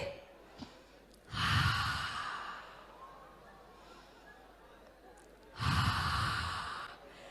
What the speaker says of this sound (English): You're just taking deep breath.